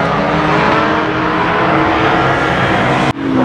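A Mark II Ford Escort race car roars around the Mondello Park circuit, its loud, steady engine note filling the track before cutting off abruptly near the end.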